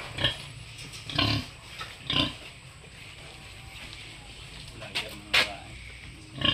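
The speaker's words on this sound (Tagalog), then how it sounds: "Yan, baboy inahin." A sow grunts in several short, separate bursts at a moderate distance, with quiet pauses and faint background noise between them.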